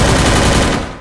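Rapid automatic gunfire from the Garena Free Fire video game, a loud close burst of dense rattling shots that fills the whole moment before tailing off at the end.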